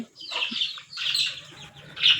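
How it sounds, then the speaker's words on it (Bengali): An aggressive mother hen clucking sharply while chasing pigeons away from food, short loud bursts of clucks and squawks with quiet gaps between them. "মা মুরগিটার কাণ্ড দেখো সবকে তাড়িয়ে দিচ্ছে"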